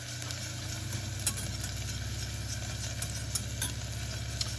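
A few seeds sizzling in a hot pan while pizza sauce is being prepared, a steady low crackle and hiss with occasional sharper pops, close and moderately loud, no talking.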